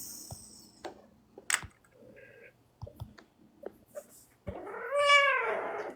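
A pet cat gives a drawn-out, wailing meow close to the microphone near the end, after several quiet clicks and small knocks in an indoor room.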